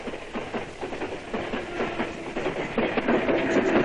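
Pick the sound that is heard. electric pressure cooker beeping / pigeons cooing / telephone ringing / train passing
train passing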